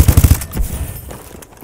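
Short burst of submachine gun fire in the video game Call of Duty: Advanced Warfare, four or five rapid, loud close shots, then a faint scattered tail of distant game noise.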